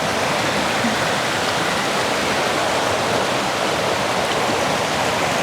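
Small waterfall on a Michigan river rushing steadily, a constant broad hiss of falling water heard close and fairly loud, with no voices.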